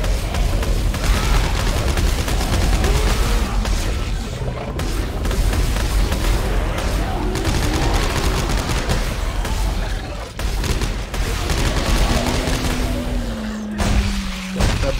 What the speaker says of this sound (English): No, I'm shooting the tentacle things.